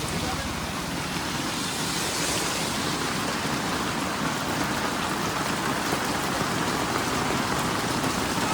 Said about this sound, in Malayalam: മഴ നല്ല മഴയാണ് അല്ലേ